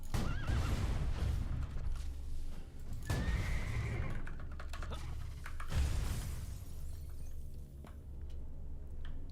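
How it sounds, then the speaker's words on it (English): A horse sound effect from a Borderlands game gives a clear neigh and whinny early on, with clip-clop hooves and a few sharp game noises over a steady rumble, with no talking. "I forgot that this thing made horse noises until you just said that."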